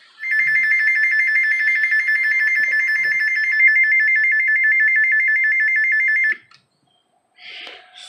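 A weather radio sounds a steady, loud electronic alert tone for about six seconds, then cuts off, followed by a brief faint rustle.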